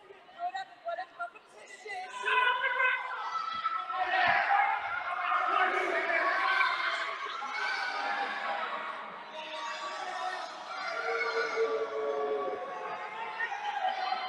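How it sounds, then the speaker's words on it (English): A wrestling crowd at an Impact Pro Wrestling show yells and cheers in a sustained, loud roar with whoops and overlapping shouts, after a few short bursts of noise at the start. "A lot of yelling going on here."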